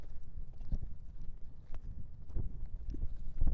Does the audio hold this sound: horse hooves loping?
yes